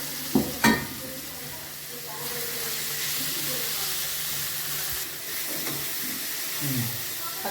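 Vegetables sizzle in a hot pan over fried green chillies with a steady hiss, a couple of sharp utensil knocks at the start and occasional stirring scrapes.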